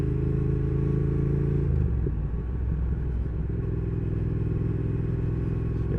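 A Triumph Thruxton R motorcycle rides along a winding country road, its engine droning loudly with a clear harmonic hum that drops in pitch as it eases off, then settles back into a steady rumble with wind noise.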